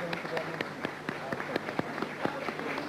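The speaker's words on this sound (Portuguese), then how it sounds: "Um momento aplaudido por todos os presentes nesta sala" Audience in a room applauding, a quiet, fairly sparse patter of separate hand claps spread over a few seconds.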